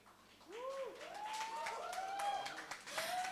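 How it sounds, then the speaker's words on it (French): An audience applauds at the Miss Interlycée 2021 pageant in Guadeloupe. Clapping builds over a few seconds, and rising whoops and whistles from the crowd ring out above it. "Un tonnerre d'applaudissements, s'il vous plaît."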